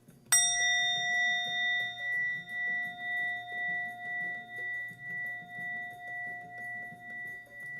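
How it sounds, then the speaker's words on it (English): A single bell struck once during a live ritual reading, ringing out with a bright, sustained tone that decays slowly over several seconds with a gentle pulsing shimmer, alone above a soft low background. "May the sound of the bell clear all negativity and bring your focus sharp."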